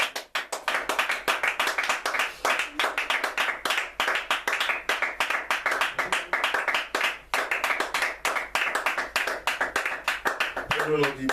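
A church congregation claps in steady rhythmic unison, a dense, continuous patter of many hands close by that carries on without pause, with voices heard over the clapping.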